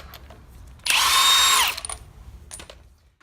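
A power tool buzzes in one loud, steady burst of just under a second, then cuts off as it spins loose the 19 mm crank bolt on a Honda S2000 during harmonic damper removal.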